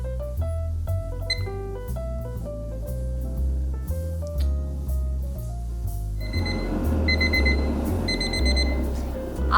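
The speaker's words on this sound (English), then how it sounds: "The 4-minute timer just went off" A four-minute kitchen timer on an air fryer beeps repeatedly in a steady pattern over background music and a rising hiss in the last few seconds.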